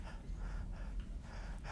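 A voice imitates short, nervous panting breaths, a quick series of quiet, breathy puffs repeated in rhythm at close range.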